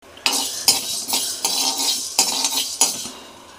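Fenugreek seeds and black pepper dry-roasting in a pan, stirred with a metal spoon that scrapes and clinks against it in a run of sharp strokes over a soft, steady rustle, close and with no talk.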